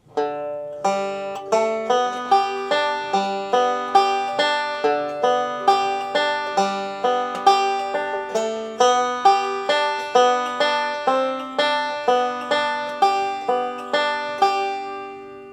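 A banjo plays a bright, steady melody of evenly spaced notes from "I'll Fly Away," each ringing briefly before the next, with no voices.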